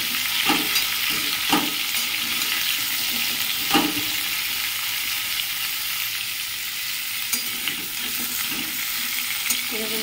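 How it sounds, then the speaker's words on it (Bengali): Cut pumpkin fries in a pan with whole cumin, a steady bright sizzle broken by several sharp scraping stirs of a spatula at intervals. "এরপর কেটে রাখা যে কুমড়োটা আছে, এই কুমড়োটা এর মধ্যে দিয়ে দেব। একটু ভালো করে নেড়ে নেব।"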